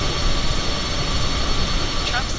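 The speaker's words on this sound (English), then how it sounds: "I can hear the other plane behind us" Another plane's aircraft engine roars steadily behind in Microsoft Flight Simulator, near an Airbus A20N, a loud continuous rushing drone throughout.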